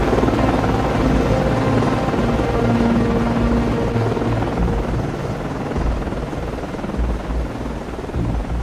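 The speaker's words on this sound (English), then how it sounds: "Con, Flyco, aircraft is in the air." Ship's helicopter flying in the submarine game Cold Waters, a loud steady rotor drone that stays close and continuous and eases slightly toward the end, with no talk.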